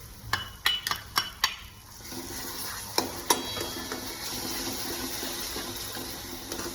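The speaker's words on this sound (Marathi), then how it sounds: "दही सुद्धा एकसारखं तेल सुटूस्तर परतवून घ्यायचं" Yogurt stirred into a sizzling egg masala over lowered gas flame, opening with a quick series of sharp spoon-on-pan clinks, then a steady soft frying hiss with occasional scrapes as the mixture is sautéed.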